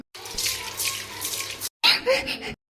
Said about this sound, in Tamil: இன்னொரு வாட்டி மூஞ்சில தண்ணி தெளி